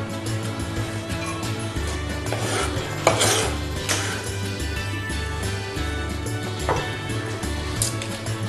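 Chopped onion goes into oil in a cooking pan and is stirred, giving clattering utensil scrapes and knocks against the pan over a steady low background hum, with a louder clank in the middle.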